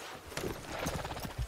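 A horse in Red Dead Redemption 2 breaks into a gallop, its hoofbeats thudding in a quick, uneven rhythm for a moment, fairly quiet.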